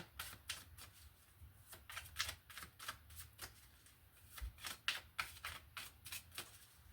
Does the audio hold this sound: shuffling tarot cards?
yes